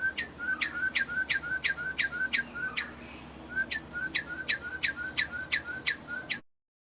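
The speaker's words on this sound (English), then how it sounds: "The state bird of Illinois is the northern cardinal." A northern cardinal repeats a clear, rising whistled call in quick succession, pausing briefly midway before resuming the same steady series, fairly close against faint background noise.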